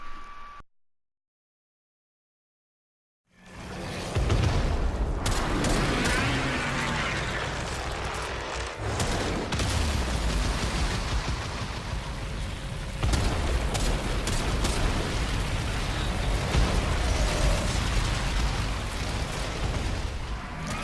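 After a brief silence, a continuous roar of blasts and rumbling fills the scene as an Eidolon's limb explodes during a battle in the video game Warframe, dense booming effects sustained loudly throughout.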